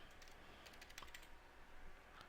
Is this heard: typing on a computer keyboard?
yes